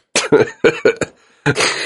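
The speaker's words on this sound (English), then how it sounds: "I got a little bit of a cough" Several sharp coughs in quick succession, close and loud, followed by a short pause and one more rough cough.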